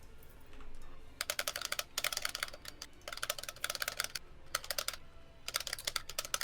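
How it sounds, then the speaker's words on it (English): Rapid clicking on a computer keyboard while building in the game Planet Coaster comes in dense bursts of sharp, close taps separated by short pauses, with no talking. "you're clicking fast"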